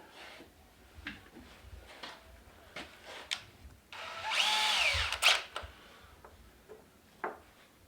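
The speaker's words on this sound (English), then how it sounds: "you size it with a drill bit that you want to use to put your hanger in" A power drill with a drill bit whirs briefly for about a second while making a birdhouse ornament, amid scattered handling clicks and taps, close by, with quiet pauses before and after.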